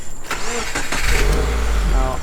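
A Subaru WRX engine cranks and catches after a MAP sensor replacement, then settles into a steady low rumble, heard close up with some short clicks and handling noises at the start.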